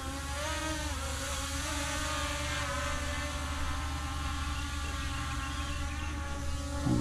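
A URANHUB G30 beginner drone hovering and climbing in calm air, its propellers giving a steady, even, high-pitched whine and buzz that carries on with no break.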